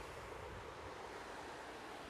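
A river flows in a steady, faint broadband rush of water with no breaks or distinct events, heard alone from a distance.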